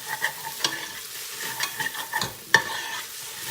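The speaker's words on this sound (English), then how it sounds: "I'm gonna mix this in." A spoon stirs tomato paste into a turkey chili base in a pot, soft scraping strokes with a few sharper clinks against the side, over a faint sizzle.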